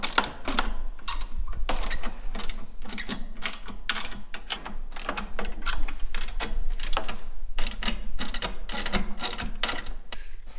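A socket ratchet clicks in quick repeated bursts while tightening a chainsaw mount on a farm, close and sharp with brief pauses between strokes.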